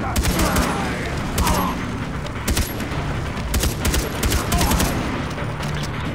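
Shotgun fire in the video game Far Cry 3, loud repeated blasts over a dense, continuous background of gunfire and noise, close and harsh throughout.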